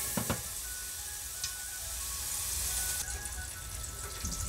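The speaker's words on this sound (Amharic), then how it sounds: "ሽንኩርታችን ትንሽ ሲጠበስ እና ካሮት ነው የምንጨምረው ሲቀጥል።" Onions frying in a pan before carrots are added, giving a steady hiss of sizzling oil with a few soft clicks and a slight rise in intensity partway through; close and faint, with no talking.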